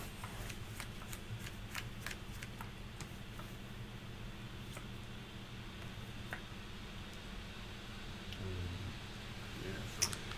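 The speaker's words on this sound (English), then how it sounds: "They are getting their shuffling in for game 2." Magic: The Gathering cards being shuffled between games at a Modern tournament, a steady run of soft riffling and clicking snaps over a low room murmur throughout.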